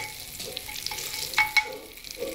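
Whole star anise, mace and cinnamon frying in hot oil for a chicken curry, a steady soft sizzle with a couple of sharp clinks of a spoon against the pan.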